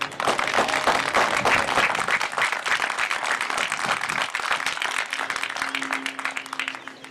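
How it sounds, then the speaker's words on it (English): Sustained audience applause at an in-person college commencement celebration, dense steady clapping from a large crowd filling the space, with a faint hum toward the end. "Let's please give them a round of applause"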